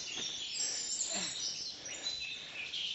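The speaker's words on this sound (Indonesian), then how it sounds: "Suara burung berkicauan" Faint birds chirping and calling in an open mountain forest on Mount Gede, high thin tweets scattered over a quiet background hiss.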